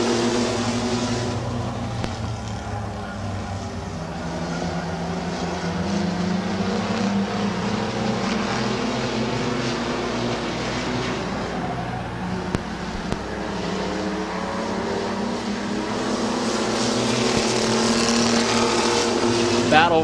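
Mini trucks race around the banked oval at Midvale Speedway, engines droning steadily at a distance under continuous race commentary, with the roar swelling slightly toward the end.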